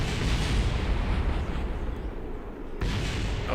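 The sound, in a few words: rocket explosion in a video game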